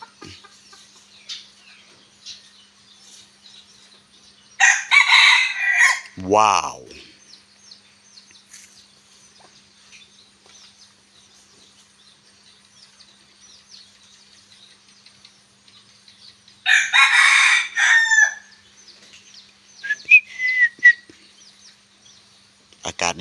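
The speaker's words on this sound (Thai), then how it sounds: "เอาขันให้เอฟซีฟัง หน่อย" A bantam rooster crows loudly twice, with long pauses between, amid faint background chirps and a few short clucks.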